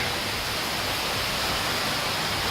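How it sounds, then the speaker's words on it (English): Steady, dense roar of a waterfall in Iceland, a continuous broadband rush with no breaks, heard up close and fairly loud, with no voices over it. "Waterfall."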